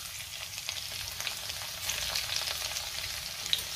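Cumin seeds and crushed garlic frying in hot oil in a kadhai, a steady soft crackling sizzle with small pops, close and continuous throughout.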